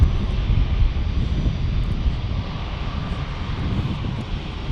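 A Lufthansa airliner rumbles steadily at San Diego Airport, a broad, continuous low-heavy engine roar with some wind buffeting, held at an even level throughout with no voices.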